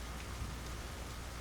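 Heavy rain pours in a dense, steady hiss, with no break across the short stretch, as if heard from indoors near a rain-washed window.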